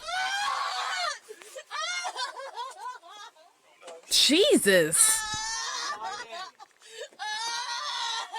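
A woman screams in a piercing burst partway through a crime scene, rising sharply above the surrounding agitated talk and shouting from several people.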